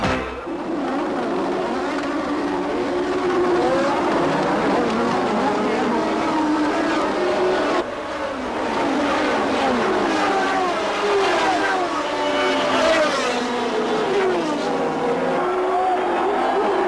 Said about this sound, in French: dès le premier tour, les turbos ont creusé l'écart, favorisés par le très rapide circuit d'Hockenheim